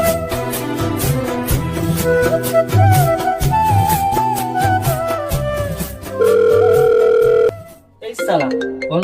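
A telephone rings with a steady, loud electronic tone in a rustic Awadhi comedy scene, cutting in after a stretch of music and talk, then breaking off.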